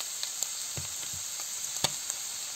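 Butter mushrooms (maslyata) frying in butter give a steady, quiet sizzle, with a few soft clicks and scrapes from stirring scattered across it.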